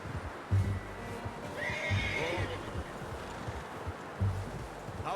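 Horse in Red Dead Redemption 2 giving a loud, close whinny mid-clip over steady clip-clop hoofbeats, with a few soft thumps and a voice speaking over it.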